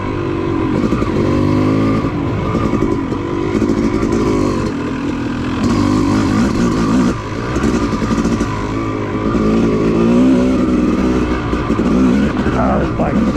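An off-road motorcycle runs along OHV trails, its engine droning and revving continuously up close with shifting throttle and loud, rough wind buffeting over it.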